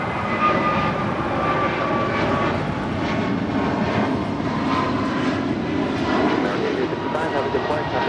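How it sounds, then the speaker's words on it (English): Departing from LAX, a heavy Boeing 747 jet gives a loud, continuous engine roar with a rising and falling tonal whine, while voices murmur beneath the noise. "Heavy Boeing 747 will depart the parallel."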